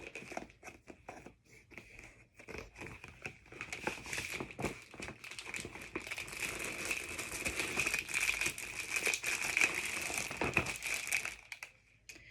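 Paper flowers from a floral paper kit are handled, giving close, quiet crinkling and rustling that rises and falls in busy bursts for several seconds.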